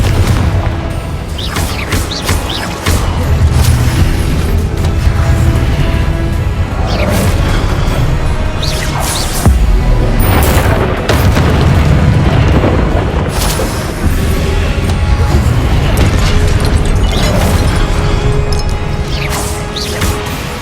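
Confringo spell explosions in Hogwarts Legacy, a loud, continuous barrage of booms and crashes with heavy low rumble, several sharp blasts punching through the din.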